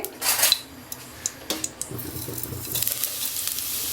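Ground spice mix roasting in ghee in a kadhai, with a spoon clinking and scraping against the metal pan over a soft, steady sizzle, close and moderately quiet.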